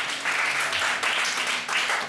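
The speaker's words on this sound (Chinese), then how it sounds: "我们要掌声鼓励一下" A church audience breaks into applause, dense clapping that swells in uneven waves across a couple of seconds, moderately loud with little else beneath it.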